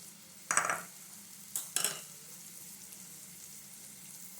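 Eggs go into a hot pan over vegetables for a potato omelette, giving two short bursts of sizzle and spatula scraping. A low, steady frying hiss runs underneath throughout.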